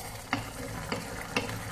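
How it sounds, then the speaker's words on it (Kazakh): Water with rice boils in a pot on the stove, giving a soft, constant bubbling hiss with three sharp clicks at regular intervals. "Мінекей, менде жақсы қайнап жатыр."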